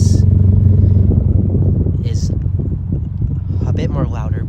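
A 2022 Subaru WRX four-cylinder idling through an ETS axleback exhaust, a steady low rumble close by with a faint higher whine, a voice talking over it near the end.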